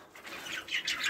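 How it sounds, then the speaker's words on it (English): Budgerigars chirping and squawking in a cage, a few short close chattering calls over faint background noise. "Got another one of our budgie males in here."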